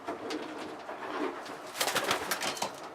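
Close, low cooing from a pair of Jan Aarden racing pigeons, a blue cock and hen, in a few soft rhythmic phrases with no one talking.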